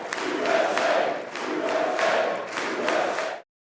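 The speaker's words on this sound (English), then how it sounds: "Listen to this applause." A large crowd applauds the U.S. Olympic men's hockey team in a hall, with dense sustained clapping swelling in waves and loud cheering mixed in, continuing until it cuts off abruptly.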